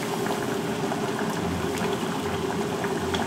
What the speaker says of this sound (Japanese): 手前でお湯が沸騰したんで、ほうれん草を茹でます